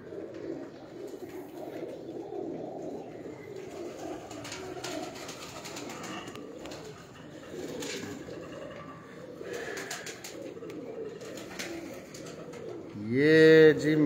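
Pigeons coo steadily throughout a large breeding loft holding over two hundred pairs, a dense chorus of soft overlapping calls with occasional wing flutters and a louder burst near the end.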